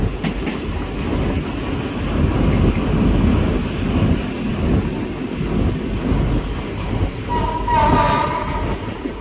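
Thai passenger train 313 brakes as it pulls into Bang Sue Junction station, a loud, steady rumble of wheels and carriages with a brief high squeal near the end.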